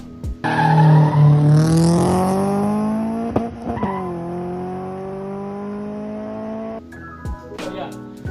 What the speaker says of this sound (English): let me insert a clip here of this car rolling